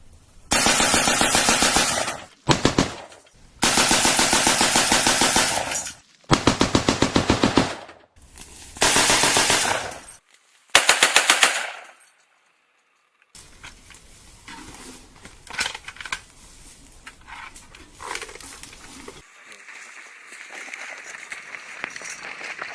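A Russian AGS-17 30 mm automatic grenade launcher fires loud, rapid bursts that repeat about six times with short pauses between them. Quieter, scattered distant battlefield noise follows.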